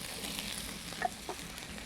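A vegetable goes into a hot pan during a pesto pasta and smoked scallop dish, giving a soft, steady sizzle with a slightly brighter crackle near the middle, heard alone without talk.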